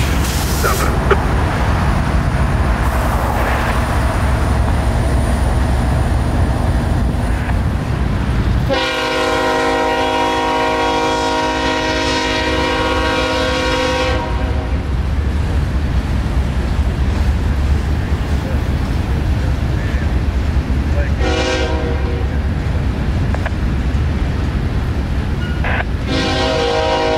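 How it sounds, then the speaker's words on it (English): Freight train Q452 with mixed freight rolls past at Lakeland Junction, Florida, its locomotive horn sounding loud and sustained in long blasts, with two shorter horn bursts later over continuous close rumble and wheel noise. "Q452 coming north out of Miami with mixed freight traffic for Waycross"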